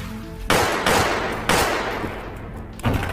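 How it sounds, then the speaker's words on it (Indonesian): Several loud, close pistol shots fired in quick succession, with gaps between bursts and a short echoing tail after each. "dan langsung menembaki Johnny."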